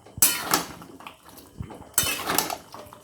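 Chicken and fried potatoes being mixed in a pot, a few loud metallic scrapes and clanks of a spoon against the pot in two short bursts, close and clear with no talking.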